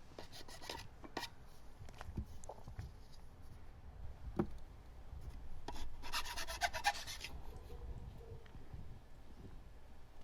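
A metal file rasping along the cut edges of pipes to smooth them, irregular scraping strokes in short bursts with a denser run of filing toward the middle, close by and alone.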